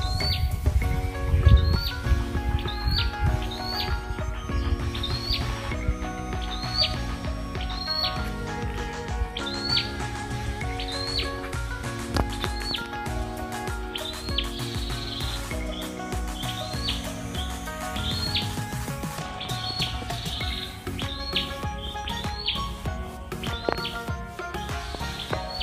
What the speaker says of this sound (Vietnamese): Chim hót thơ mộng luôn.